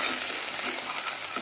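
Whole cumin and coriander seeds sizzle in hot oil for samosa filling, a dense, bright, continuous crackling hiss up close with no voices.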